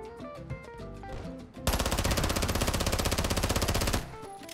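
Rapid automatic gunfire in Call of Duty, a whole magazine emptied in one loud, continuous burst lasting over two seconds after a short stretch of game music.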